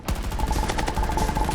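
An M5A3 assault rifle fires in Battlefield 2042, a fast run of sharp, evenly spaced shots that crackle close and continuous for a moment.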